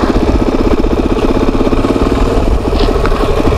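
Suzuki DRZ400SM motorcycle engine running loud and close, a steady pulsing thrum that holds without letup.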